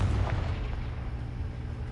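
A blasting spell's explosion in the Hogwarts Legacy video game: a short, heavy boom at the start that fades into a low rumble.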